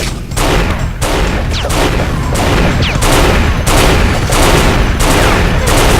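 Rapid crossfire in the Unreal multiplayer game on the DmCurse map, dense, loud bursts of weapon fire in quick pulses about every half second, with several overlapping shots and whizzing projectiles throughout.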